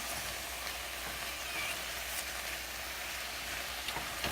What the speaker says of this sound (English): Then you're going to add the spinach, saute that down, and you're done.